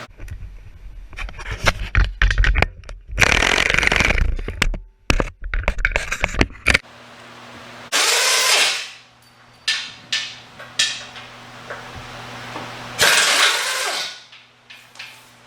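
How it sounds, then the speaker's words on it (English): Power tools and hand tools work loose the bolts on a Jeep JK Rubicon front bumper, with bursts of impact-gun rattling, metallic clanks and scraping separated by quiet gaps, all close and loud. "So now it's all left to take the bolts out of the bumper and set it on the ground."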